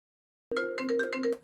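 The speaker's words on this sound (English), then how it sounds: "I didn't know the phone was going to ring." A phone rings suddenly out of silence, a clear electronic melodic ringtone of rapid repeated tones lasting about a second, close and alone in a room where cards are being crafted.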